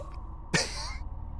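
A single short, rough hairball cough in the video game Night in the Woods, with a raspy, hacking edge, fairly close, followed by a fading tail over a low steady background hum.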